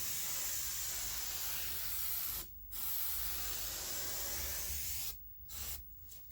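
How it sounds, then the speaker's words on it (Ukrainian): WD-40-style cleaner sprayed onto the felt window seals of a Chevrolet Lacetti: a close, steady aerosol hiss lasting over two seconds, then brief pauses and two shorter sprays, with no talking. "Можна ще пробризати фетру."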